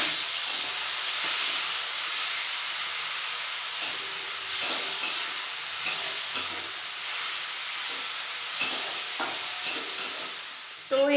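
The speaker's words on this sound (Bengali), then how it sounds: "চিংড়ি মাছটাকে নুন আর হলুদ মাখিয়ে নিয়েছি, এবার এই তেলের মধ্যে ভেজে নেব প্রথমে" Shrimp coated in salt and turmeric frying in hot oil, giving a steady, close, loud sizzle and hiss throughout, broken by occasional soft pops and clatters.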